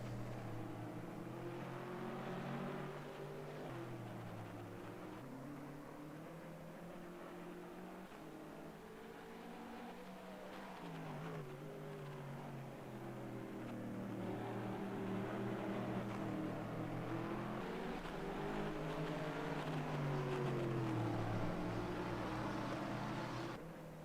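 Racing cars at the Spa 24 Hours, among them the Just Racing BMW, drone steadily past at a distance as a continuous engine roar whose pitch rises and falls through gear changes and throttle shifts, with no voices.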